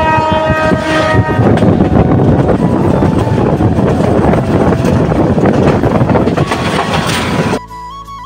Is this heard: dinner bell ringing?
no